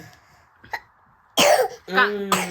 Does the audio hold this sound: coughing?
yes